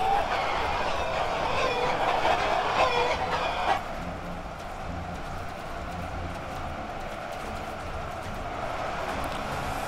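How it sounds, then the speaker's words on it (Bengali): A flock of chickens in a video game battle against archers, busy overlapping clucking and squawking for a few seconds that then thins into a quieter continuous background murmur. "তো মুরগিগুলো এগিয়ে আসছে"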